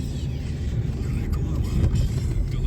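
Car driving on the road, a steady low rumble of engine and tyre noise heard from inside the vehicle with someone talking over it throughout.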